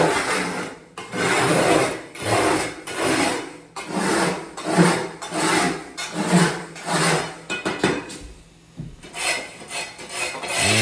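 A trowel scrapes excess thinset mortar off Ditra membrane in repeated rhythmic rasping strokes, loud and close, with a brief pause near the end before the scraping resumes.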